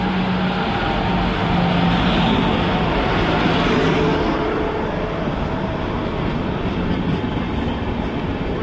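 A train heading to Kolkata from Ghatsila station rumbles steadily and close, with a continuous roar of wheels and carriages throughout and no voices.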